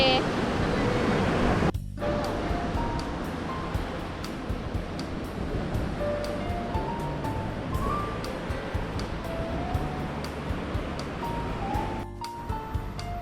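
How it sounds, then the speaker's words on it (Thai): Surf washes onto a beach at Koh Larn island, Thailand, a continuous broad rush of waves with abrupt breaks near the start and end, while faint sounds and a voice drift in the background. "ทะเล"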